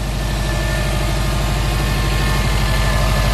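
Subaru STI with a catted downpipe idling while it warms up, a steady low, evenly pulsing rumble that stays close and constant throughout, with no talking.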